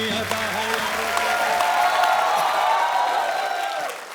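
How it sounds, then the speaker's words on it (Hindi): Audience applause and cheering greet actor Rishi Kapoor as he comes on stage at a Hindi entertainment show, a steady, dense wall of clapping lasting the whole span with faint voices and music tones under it, tapering at the end. "प्लीज जोरदार तालियों से स्वागत करिए"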